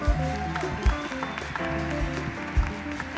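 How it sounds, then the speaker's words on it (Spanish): At a big band jazz concert, the audience gives a round of applause for the sound technician, a moderate clapping with a few strong claps over a sustained tonal hum in the hall. "Un aplauso para Franci"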